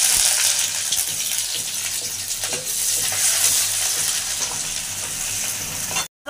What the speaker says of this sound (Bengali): পেঁয়াজগুলো ভেজে নেব লাল লাল করে।